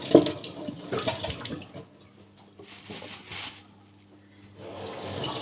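Fruit washed under a running kitchen tap, water splashing and gushing in uneven bursts that fade and return, close by, with no speech.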